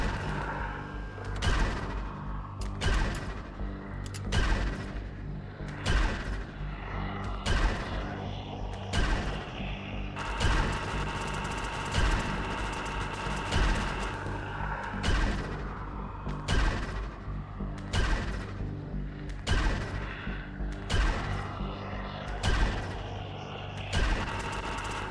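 A rapid minigun fires in Empyrion Reforged Eden 2, a loud, steady mechanical stream of shots that runs almost without pause for twenty-five seconds, pulsing in short regular bursts under a constant whirring drone.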